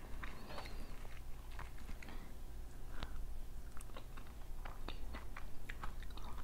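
Durian being chewed close to the mouth on a cold evening, with soft wet bites, smacks and irregular crunchy clicks repeating over several seconds in a quiet room.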